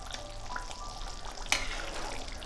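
Coconut milk bubbles and sizzles softly in a pan while being cooked down into coconut oil, a constant crackling simmer, close but quiet, with a couple of brief sharper pops.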